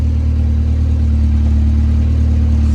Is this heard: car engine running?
yes